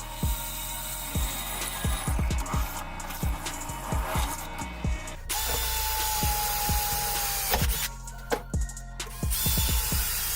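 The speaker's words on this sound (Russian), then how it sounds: "И сделаю тоже отверстие сквозное на 8 миллиметров." A power drill bores an 8 mm through hole in steel profile pipe, a close, continuous whine with repeated sharp clicks and knocks, briefly rising in pitch midway.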